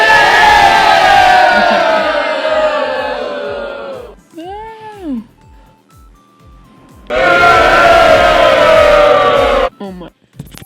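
A crowd of children's voices slowed down in iMovie becomes a loud, droning, groaning mass. It breaks off for a few seconds of isolated, drawn-out single voices, then the loud slowed crowd returns.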